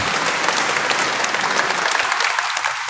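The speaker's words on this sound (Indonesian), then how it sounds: "Kita tepuk tangan untuk beliau." An audience claps in a church building at a 75th anniversary celebration of the Diocese of Bogor, dense and continuous applause for nearly three seconds, thinning slightly toward the end.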